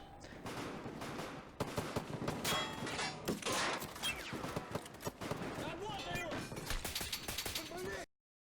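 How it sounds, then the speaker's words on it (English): Suppressed gunshots as a sound effect, a busy run of muffled pops and mechanical clacks mixed with voices, ending in a sudden cutoff to silence. "Suppressor sound, fantastic."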